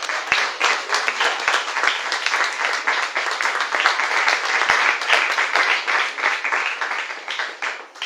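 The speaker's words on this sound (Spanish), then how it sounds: "Denle un fuerte aplauso al Señor." A church congregation claps loudly and continuously for several seconds, a dense steady applause filling the room with a few louder individual claps.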